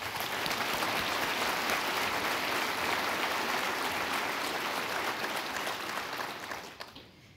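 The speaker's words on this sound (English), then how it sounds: "Please join me in giving a big round of applause to the Propeller Club for the work that they do" A big round of applause from the audience at the State of the Port 2023 gathering in Charleston, South Carolina, a sustained dense wash of clapping that holds steady for several seconds before tapering off at the end.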